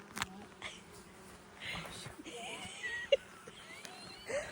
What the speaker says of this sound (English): we're getting ready to get the honey out of our hives.